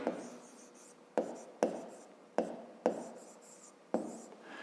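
Pen strokes on paper while working a fifth-grade math exercise by hand, close and quiet, with six sharp onsets each trailing off into a scratchy drag, spaced roughly evenly.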